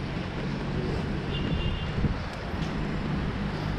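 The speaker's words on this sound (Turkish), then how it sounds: "Biraz rüzgar var." Steady wind buffets the microphone outdoors in Ayvalık, a constant dense roar with low gusty thumps and no clear voices.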